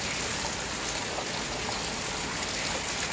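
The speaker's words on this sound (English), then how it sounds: "Came out in the downpour today." Heavy downpour outdoors in Makati, Manila at night, a dense, steady hiss of rain falling on surfaces, close and loud, with no voices.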